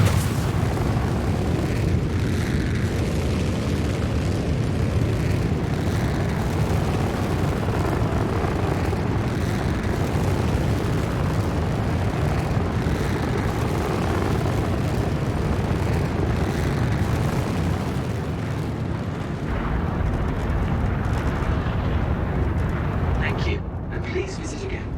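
Crusader Industries Ares Starfighter Ion spaceship in Star Citizen firing its engines at full burn, a loud, steady roaring rumble that holds for over twenty seconds before easing at the end, with someone talking over it.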